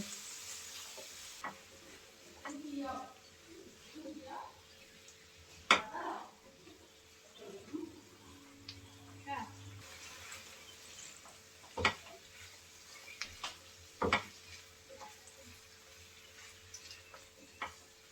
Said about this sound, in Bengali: চুলার আঁচ মিডিয়াম রেখে এখন ভালো করে নেড়ে চেড়ে ভেজে নেব